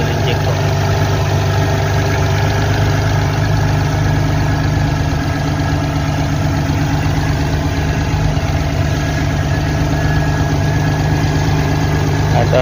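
A car's 3.6-litre direct-injection engine idles steadily and loudly for the whole stretch, a constant low rumble with no revving or pauses.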